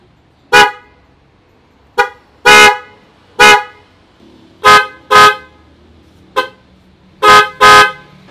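Hella and Boss car horns fitted to a Suzuki Jimny, sounded in a series of short beeps and paired honks with gaps between, loud and close.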